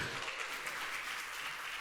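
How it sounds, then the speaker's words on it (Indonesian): A church congregation at a Sunday service in Jogja applauds Bro Ebet with a steady wash of many hands clapping, faint and distant, lasting under two seconds. "Yuk kita beri tepuk tangannya meriah bagi Bro Ebet"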